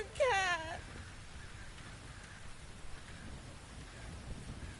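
Steady rain hisses in the video game The Invisible Hours, with a low rumble of thunder underneath and a brief high wailing cry near the start.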